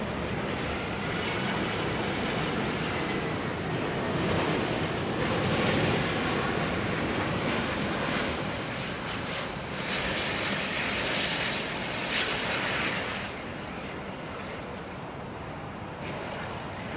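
Airliner arriving at London Heathrow Airport in the early morning, a continuous loud engine roar with broadband rush that holds steady then eases off as it passes, with light wind noise on the microphone.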